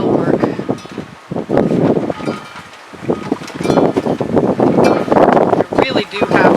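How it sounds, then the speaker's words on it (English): Strong wind gusts outdoors, loud and steady buffeting of the microphone that rises and falls over several seconds. "I really do have a lot of wind, and it sounds like it's coming up"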